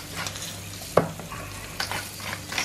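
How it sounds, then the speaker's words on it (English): Potatoes sizzle and fry in butter in a pan, a steady close crackle with a few stirring scrapes and no talking. "Just adding the potatoes to the butter."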